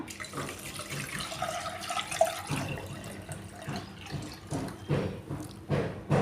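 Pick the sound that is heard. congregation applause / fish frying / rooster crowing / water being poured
water being poured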